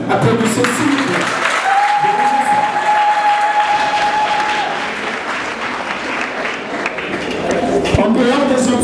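A crowd claps at a civil wedding ceremony, a dense, steady wash of applause that holds for several seconds while voices murmur underneath.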